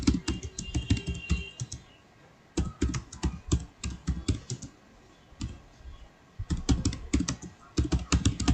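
A bank branch address is typed on a computer keyboard, heard as rapid, crisp key clicks in bursts, separated by a couple of short pauses, close and clear with no voices.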